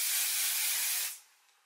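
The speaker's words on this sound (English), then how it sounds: "I'm gonna put in the shine spray by" Mark Hill shine spray hisses from an aerosol can in one loud, close, continuous burst of about a second, then cuts off to near silence.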